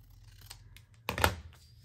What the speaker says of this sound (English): you can cut the whole thing in one snip